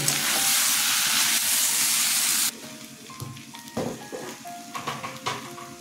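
Potato, pumpkin and pointed gourd pieces sauté in a pan, starting with a loud, dense hiss of sizzling that drops off abruptly midway, followed by quieter stirring, scraping and clinks of a utensil.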